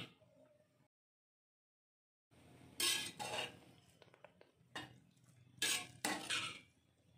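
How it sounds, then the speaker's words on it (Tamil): Cooked rice for milk pongal being mashed in a pressure-cooker pot, with a spoon scraping and clinking against the metal in irregular bursts after a short silence, close and fairly loud, no talking. "சாதத்தை நல்லா மசிச்சு எடுத்துக்கலாம்"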